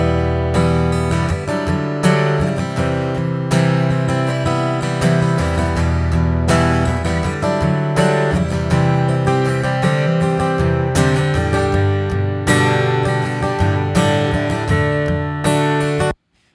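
Acoustic guitar through a Trance soundboard transducer pickup strums and picks a continuous passage of chords and notes for about sixteen seconds, steady and full, ending abruptly with no voices.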